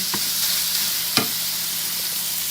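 Ground beef browning in a soup pot, a close, even sizzle running throughout with a couple of brief stirring knocks, no talking.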